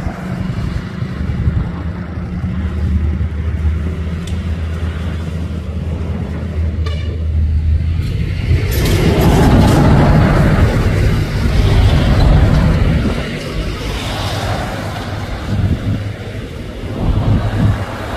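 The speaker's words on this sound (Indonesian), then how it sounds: "Truk sawit bintang 6x4 HD 220 PS ini." Heavy diesel rumble of a Bintang 6x4 HD palm oil truck grinding up a steep hill at Bukit Kodok, a steady low drone that swells louder and rougher partway through, mixed with wind buffeting.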